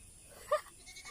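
A single short goat bleat rises once, faint and somewhat distant, at a rural home in Bicol where many goats are kept, with quiet ambient background and no other sounds.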